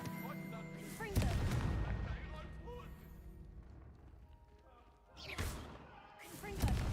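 Confringo blasting spells exploding in a Hogwarts wizarding video game: several sharp, booming blasts go off at intervals, with a voice speaking between them.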